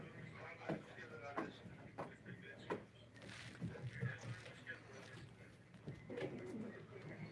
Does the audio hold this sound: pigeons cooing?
yes